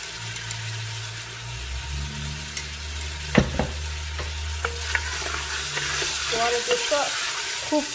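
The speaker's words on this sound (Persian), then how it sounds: "ما گوشت امرای پیاز سرخ میکنیم" Meat frying with onions in a pan for Afghan zamarod palaw, a steady sizzle with stirring scrapes and a few sharp clatters, a low engine-like hum running underneath throughout.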